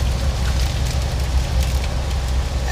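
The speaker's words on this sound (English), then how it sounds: "them are pretty big raindrops, too." Big raindrops striking a truck windshield, a steady dense patter over the low rumble of the running truck, close and fairly loud throughout with no talking.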